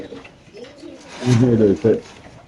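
Racer pigeons coo nearby in soft, throaty rolling calls, rising to a louder pair of coos toward the end against a quiet background.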